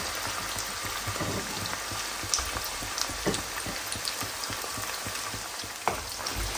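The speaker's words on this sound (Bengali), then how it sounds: "তেলের ভিতরে দারচিনি, এলাচ, তেজপাতা, গরম মশলা যেগুলো সেগুলো এখন এগুলো দিয়ে একটু ভাজবো" Cinnamon, cardamom, bay leaf and other whole garam masala spices fry in hot oil, making a constant crackling, rain-like sizzle close by, with a few sharper pops and no voices.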